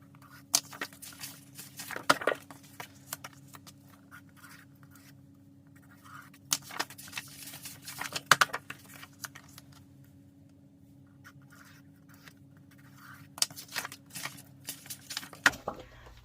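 Pencil scratching and paper rustling softly at close range while rose petal templates are traced by hand on paper, with scattered small taps and slides over a low steady hum.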